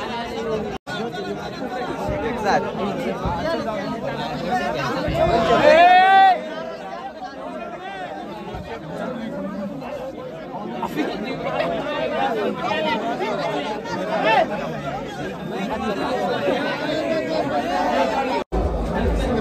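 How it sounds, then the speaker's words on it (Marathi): Dense crowd chatter of devotees carrying torches at Shivneri fort fills the scene continuously, with many overlapping voices, shouts and a brief louder cheer near the middle, close and lively throughout. "भरपूर गर्दी आहे या ठिकाणी."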